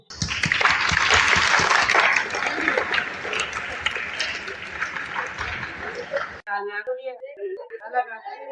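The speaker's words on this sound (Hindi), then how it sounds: "लेकिन मैं आपके लिए ताली करूंगा।" Dense clapping from a group of children in a summer camp class, loud and continuous for several seconds before stopping abruptly, followed by a person talking.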